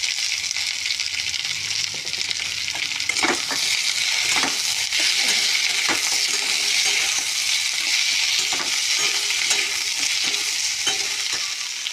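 Spices, dried chillies and tomato fry in a wok for a cauliflower yogurt korma: a loud, continuous hissing sizzle with scattered scraping stir strokes throughout.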